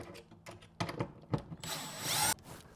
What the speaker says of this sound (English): we'll go ahead and screw them in with our drywall screws